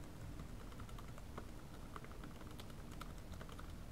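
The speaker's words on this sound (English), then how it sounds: "I'm just going to press the arrow keys" Arrow keys on a Lenovo laptop keyboard pressed in a quick, irregular run of light, soft clicks, heard up close against a steady background hiss.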